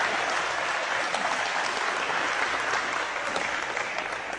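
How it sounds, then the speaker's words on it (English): A crowd applauds at a talk on RFID chips and electronic surveillance, a thick wash of clapping that holds at full strength for the whole stretch with no other sound. "There, now you can really applaud."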